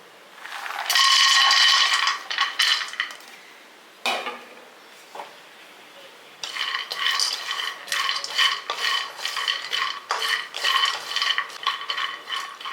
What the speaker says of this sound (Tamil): நம்ம பாதாம் பிஸ்தா முந்திரி ஏலக்காய் மூணையுமே ஒன்றாவே போட்டு வறுத்துக்கலாம்